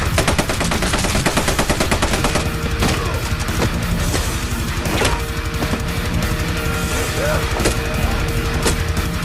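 Rapid bursts of gunfire crackle almost nonstop over a loud, dense background, with a few sharper individual shots standing out near the end.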